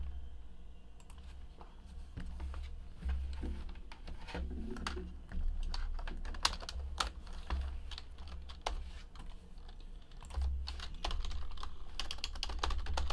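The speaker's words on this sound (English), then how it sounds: "Don't worry, I type fast." Someone types quickly on a computer keyboard, a quiet, steady patter of key clicks in bursts with short pauses.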